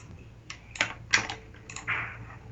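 Keys clatter on a computer keyboard in a quiet room, a handful of close, uneven clicks in short bursts with pauses between them.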